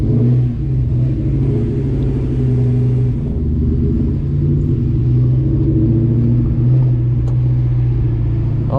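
A car with a 2-valve engine pulls hard under acceleration, a loud steady engine drone and rumble building as revs climb, heard close from inside the cabin with no talk.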